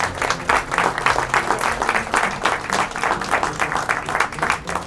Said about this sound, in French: elle méritait nos applaudissements